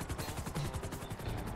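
Rapid bursts of gunfire from the video game GTA 5, a dense stuttering volley of shots repeating steadily throughout, loud and close with no talking over it.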